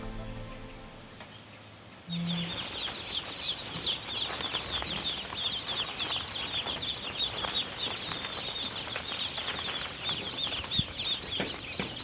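A flock of F1 Itik Pinas ducks gives a continuous chorus of overlapping quacking calls, with some wing flapping mixed in, close and fairly loud once it begins.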